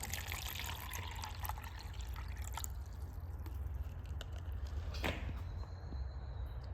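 Water poured from a container into a concentrated magnesium chloride solution during a chemistry experiment, a steady liquid trickle and splash with a few brief drips, fairly faint and continuous without talk.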